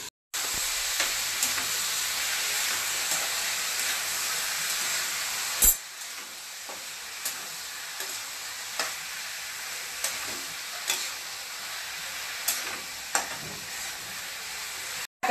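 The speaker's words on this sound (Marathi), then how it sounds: "आणि आता भाजी टाकते." Shirali (ridge gourd) vegetable sizzles steadily in a hot pan with turmeric and spices, with a continuous frying hiss broken by intermittent scraping stirs, close and fairly loud, with no talking.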